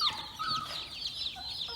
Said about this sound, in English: Big little chickens.